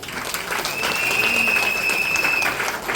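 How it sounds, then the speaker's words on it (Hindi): Sustained audience applause fills a hall at a motivational business talk, dense and steady for the whole moment, with a faint whistle-like tone riding over the clapping. "जोरदार ताली आप सभी के लिए।"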